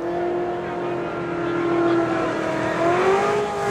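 A Chevy Camaro runs to the top end at a heads-up drag race, its engine holding a steady high-pitched drone that rises slightly near the end. The car is heard at a distance with no voices.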